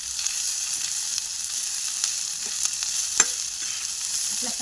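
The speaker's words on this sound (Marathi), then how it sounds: "आपला सगळा मसाला छानपैकी भाजून झालाय।" Masala with chillies, cashews, ginger and garlic dry-roasting in a pan, making a steady hiss with faint scraping stirs and one sharper clink.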